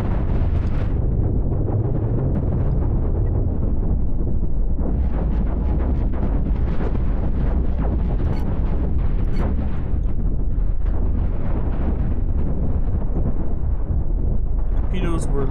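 Heavy, sustained booms and rumbling blasts from nuclear missile strikes in a space strategy game about a galactic civil war, loud and continuous for the whole stretch with crackling bursts layered over a deep low roar.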